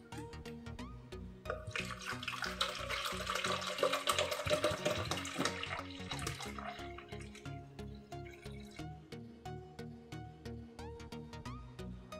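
Water is poured into a container for mixing C-41 color negative film developing chemicals, giving a loud steady splashing pour for several seconds that gives way to light dripping and rhythmic knocking.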